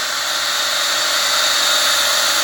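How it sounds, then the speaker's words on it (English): A drill-driven pump siphons biogas out of an inner tube to flare it off, giving a steady, loud, high-pitched whine that holds without pause from start to finish, with no voices over it. "We're using the hand drill siphon"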